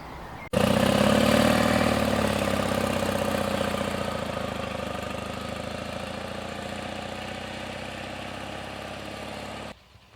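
Fiat 126p small two-cylinder car engine while driving on Swedish roads: a loud, close, buzzing drone that starts abruptly, holds steady and slowly eases, heard from inside the car with no talk.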